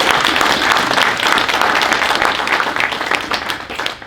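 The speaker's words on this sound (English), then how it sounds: "So give all three of these guys a round of applause" An audience at a real estate investors' evening meeting breaks into sustained applause, a loud, dense wash of many hands clapping that holds steady and tapers slightly at the end.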